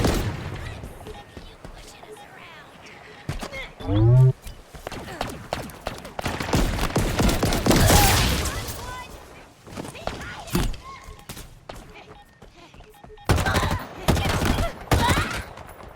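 Bursts of gunfire in the Halo Infinite video game ring out in short volleys amid a loud battle mix with explosions and other effects, with character voices speaking over parts of it.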